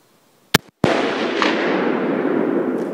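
A 6.5 Creedmoor rifle fires a 124-grain Hammer Hunter bullet at a raccoon outdoors at night, a sharp, loud crack followed by a second report and a long rolling echo that fades slowly.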